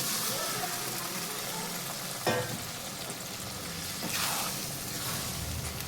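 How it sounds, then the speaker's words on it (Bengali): Boiled peas tipped into a pan of sizzling kabuli chana masala, a steady frying hiss with a sharp clatter midway and a swell of stronger sizzling and stirring afterward. "এবার আমি দিয়ে দিচ্ছি এখানে সিদ্ধ করা মটর।"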